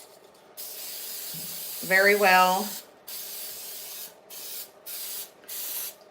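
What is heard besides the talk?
cooking spray sprayed into bundt pan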